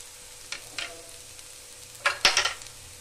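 Egg noodles with spices being stirred in a pan, giving a few soft scraping strokes and light sizzling bursts, the loudest pair near the end, over a quiet background.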